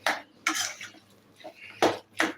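A spoon stirs chicken masala filling for spring rolls in a pan, giving a few sharp scrapes and clinks of utensil on metal in quick, uneven strokes, close and fairly loud.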